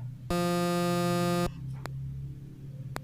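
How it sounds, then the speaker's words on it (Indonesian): A single thick, bright supersaw synthesizer note from FL Studio Mobile holds for about a second and stops abruptly, followed by a couple of faint clicks over low background noise. "kemudian misalnya super saw."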